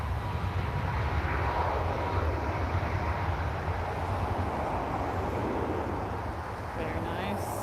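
A British Airways airliner takes off at Lisbon Airport, its engines producing a steady, loud, broad roar that holds for several seconds and then eases slightly, with no clear speech over it.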